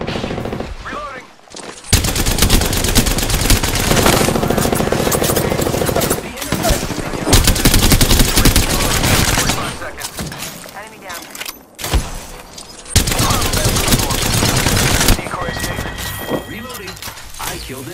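Gunfire in Apex Legends comes in dense, loud automatic bursts broken by short pauses, with rapid repeated shots and a voice talking over parts of it.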